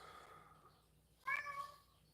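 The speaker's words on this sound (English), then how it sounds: "Why this cat's named Trouble?" A cat meows once, a short clear call midway through an otherwise quiet indoor stretch, fairly close but not loud, with no one talking.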